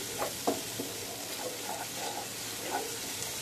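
Spice paste mixed with raw cashew paste frying in a pan, a low steady sizzle broken by several close scraping stirs of a spoon, with no one talking.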